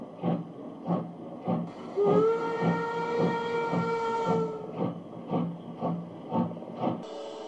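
Steam locomotive 043 364 departs the Braunschweig works, its exhaust chuffing in a steady rhythmic beat throughout, with a long loud steam whistle blast sounding in the middle over the puffing.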